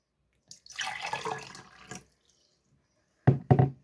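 Liquid poured into a container at a casual indoor setting, a steady splashing stream lasting about a second and a half, followed after a pause by two short louder splashes or knocks.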